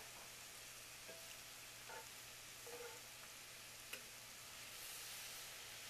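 Whitefish and scallops simmer in a pan of Italian red tomato sauce, giving a constant soft broadband sizzle and hiss with faint occasional pops, quiet and steady with no talking.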